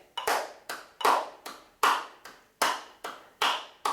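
Sharp hand claps sound in pairs, nine crisp strikes in a steady eighth-note pulse, each with a quick ringing decay in a quiet room.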